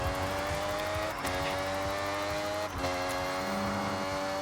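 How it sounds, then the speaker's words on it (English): A car in the Forza Horizon racing game, a Ferrari from the Italian car pack on a racetrack, spins its wheels with a loud sustained engine drone and tire noise, briefly dipping between gears. "wheel spinning"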